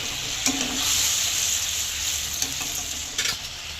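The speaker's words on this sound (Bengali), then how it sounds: "এবার ভালো করে মশলাটা কষাবো।" Spice masala with red chilli powder and salt is stir-fried in a pan for a soyabean muitha dish, a steady close sizzle broken by a few sharp scrapes of the spoon, with no talking.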